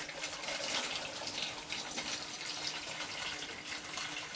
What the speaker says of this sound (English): put your boiling water in